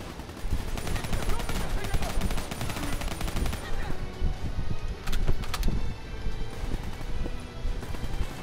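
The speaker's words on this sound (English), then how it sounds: "there's bad guys shooting at us" Enemy gunfire in a video game: dense, continuous rapid shots and bursts like automatic weapons run through the whole clip, loud and busy with constant clattering.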